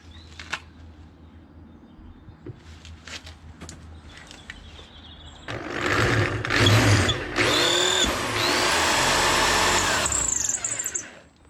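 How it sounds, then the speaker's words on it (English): A power drill whirs loudly through wood on a motorhome for several seconds, briefly pausing and revving again, after some quieter handling clicks and shuffling. "Hopefully it's going to make it a lot easier when I drill through"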